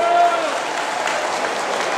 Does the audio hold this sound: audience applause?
yes